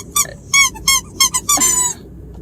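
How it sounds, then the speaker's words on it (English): Small squeaky llama toys squeak five times in quick uneven bursts, close and loud, with the last squeal drawn out longer. "I decided to get these little squeaky llamas"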